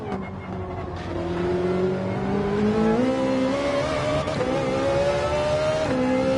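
Race car engine in Gran Turismo 7 droning steadily at high revs while slipstreaming behind another car, rising pitch through gears with a brief shift near the end, loud and continuous with no talk.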